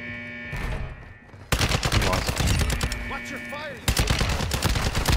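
Heavy automatic gunfire in the Call of Duty DMZ video game, with dense rapid bursts and loud volleys that surge after a brief lull, while players talk over the shooting.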